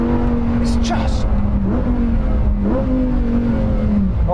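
A Lamborghini Huracan accelerating hard, its engine droning close and loud and stepping sharply in pitch with each quick paddle-shift gear change, while someone talks over it.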